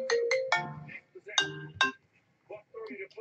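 A phone ringtone chimes in short bright bursts, two rings close together and then another, fairly near, with voices talking around it in a room where football cards are being opened.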